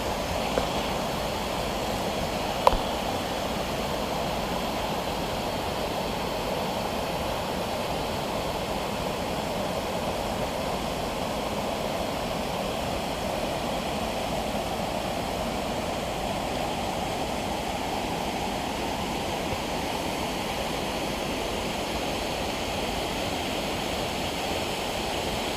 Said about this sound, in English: Indian Creek Falls.